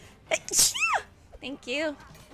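A single sharp, loud sneeze up close, quickly followed by voices talking over a game about pirate adventures.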